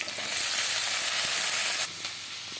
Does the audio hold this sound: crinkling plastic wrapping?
no